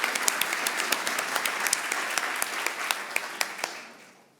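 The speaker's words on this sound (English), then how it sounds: "Can we have another round of applause for the amazing work of the outside in?" A crowd applauds at a charity fundraising event, with individual sharp claps standing out of a steady wash of clapping before the applause fades away near the end.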